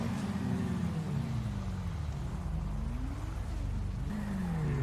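A motorbike engine in the GTA V video game, a steady low rumble with rising and falling revs, moderately loud and continuous with no talk.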